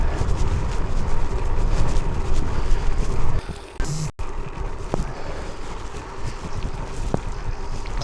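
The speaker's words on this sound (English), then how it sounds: "it feels like a headwind as well as a climb" Headwind buffeting a road bike rider climbing in the Cooley Mountains, a loud rushing wind roar that briefly dips and thumps, then steadies again with no talking.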